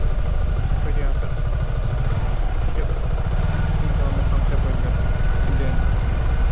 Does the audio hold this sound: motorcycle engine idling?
yes